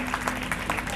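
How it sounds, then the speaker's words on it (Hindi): Applause from a school poetry-recital audience greeting a young girl performer, a steady wash of clapping with a few louder bursts, continuous for about a second with no voices over it. "एक बार जोरदार तालियों से स्वागत करिए श्रेयांशी विश्वास सागरिका।"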